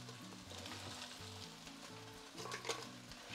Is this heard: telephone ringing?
no